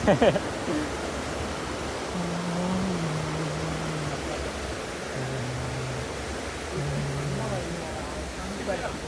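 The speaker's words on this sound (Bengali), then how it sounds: "এইখানে হচ্ছে এই ঝর্ণাটা" Steady broadband rushing of a waterfall in Hallstatt, Austria fills the scene, with faint low tonal hums drifting in and out beneath the constant wash.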